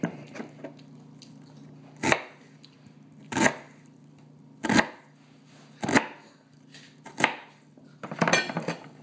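Knife chopping onions and celery for Thanksgiving stuffing on a cutting board, with about seven sharp, evenly spaced chops and a quick flurry of cuts at the end, close and loud over a quiet background.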